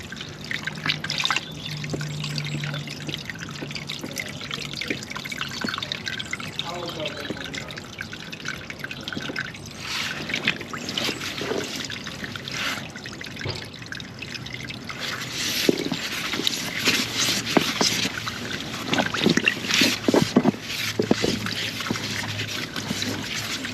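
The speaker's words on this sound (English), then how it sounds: "we're going to jet downstream towards the tank and hopefully straight through the blockage, clearing it in the process" A high-pressure drain jetter fires water through a spear jet nozzle into a blocked drain beside an overflowing manhole, giving a steady close hiss and splashing gurgle that grows busier and more turbulent in the second half.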